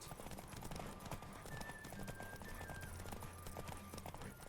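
Horse hooves clip-clop at a brisk, regular gallop during a race in The Witcher 3, faint and steady beneath a low rumble and a thin sustained tone.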